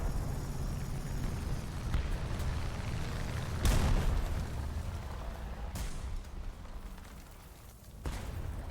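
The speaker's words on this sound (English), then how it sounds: "Plane just tried to bomb me." An aircraft's bomb blast in a tank video game set around the heavy Maus tank, a sharp low booming burst rising above steady rumbling battle noise, with a couple of smaller thuds following.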